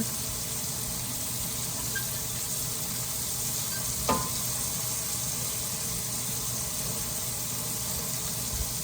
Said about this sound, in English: When that garlic hits the hot oil, it smells so good.